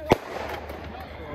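A single sharp firework bang from a celebration at a football championship match in Bolsward, Netherlands, crackling briefly over steady crowd noise and distant chatter.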